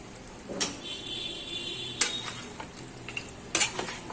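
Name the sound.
chicken frying in oil with ginger, garlic and onion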